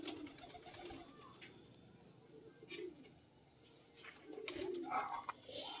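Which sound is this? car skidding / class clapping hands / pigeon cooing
pigeon cooing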